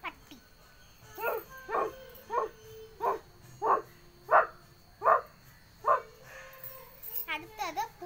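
A voice imitates a dog barking, giving a series of about nine evenly spaced, moderately loud woofs, then a quick run of whimpering yips at the end.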